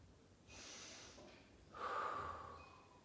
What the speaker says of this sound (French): Et on fait une grande respiration.